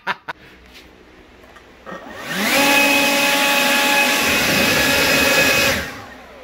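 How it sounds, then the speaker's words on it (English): A leaf blower spraying paint onto a workshop ceiling starts up after a few light knocks, then roars loud and steady at close range for about four seconds before cutting off. "a leaf blower."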